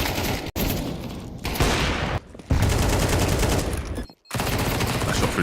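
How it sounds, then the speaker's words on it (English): Gunfire during a professional Counter-Strike match, loud dense rapid bursts of automatic rifle shots close up, broken by a few brief silent gaps, with faint commentary underneath. "That shot through the smoke was crazy."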